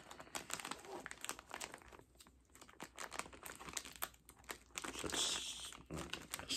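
Plastic clothing packaging being torn and ripped open by hand, a close run of crinkling, crackling and tearing bursts with brief pauses, fairly quiet overall.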